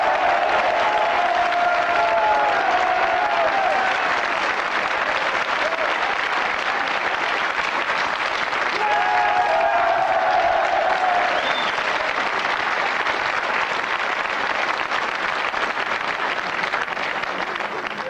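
A studio audience at the French TV show Les Grosses Têtes on TF1 in 1993 claps loudly and steadily throughout, a continuous wall of applause with faint crowd murmur mixed in.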